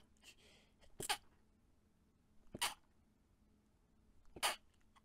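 A person sneezes three times, with quiet pauses between the sharp bursts, heard alone and close by.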